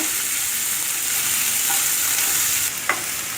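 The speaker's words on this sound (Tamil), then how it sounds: "நறுக்கின வெங்காயத்தை போட்டு நல்லா வதக்கிக்கோங்க" Loud, continuous sizzling and frying crackle as chopped onions sauté in a pan, with a faint scrape of stirring near the end.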